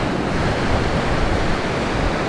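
Small, glassy ocean waves break steadily on a North Shore beach under offshore wind, giving a continuous, loud wash of surf with no voices.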